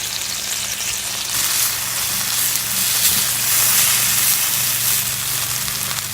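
Spelt noodles sizzle steadily in a hot pan of vegetable stir-fry, a loud, continuous frying hiss with faint stirring, no voices.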